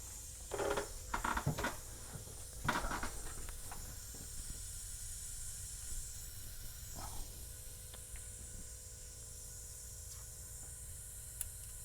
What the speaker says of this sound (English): the compressor is building pressure faster than this thing is leaking